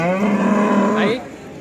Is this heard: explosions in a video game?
no